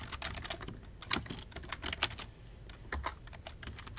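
Rapid, even tapping on a computer keyboard as a card number is entered, with close clicking keystrokes in a steady run and a few heavier presses standing out.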